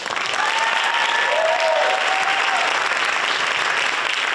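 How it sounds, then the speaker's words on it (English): A crowd at a Women's History Month panel breaks into sustained applause, a thick, even roar of clapping from many hands, with a few voices and a whoop rising above it. "They're feeling it because even the men were clapping"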